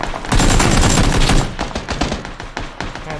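Rapid gunfire in a first-person shooter game, a loud close burst of shots followed by quick, irregular single cracks that taper off over a few seconds.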